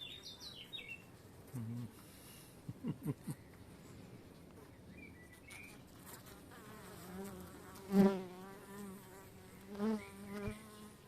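A quiet, continuous buzz of honey bees at the hive, with brief chirps and a few louder close passes rising over the low hum.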